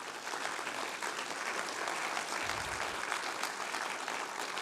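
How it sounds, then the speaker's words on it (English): A conference audience gives a speaker a round of applause after a round table talk, even and continuous clapping at moderate distance that fills the whole stretch. "Let's just give Richard a round of applause."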